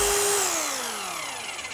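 A Bosch GBH 2-26 E rotary hammer drill running briefly, a dense close motor whine with a pitch that slides downward as it spins down.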